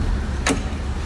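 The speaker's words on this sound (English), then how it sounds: "Door closes nicely." A single short, solid thunk as the door of a 1965 Ford Mustang Fastback swings shut close by, with a steady low engine idle rumbling underneath.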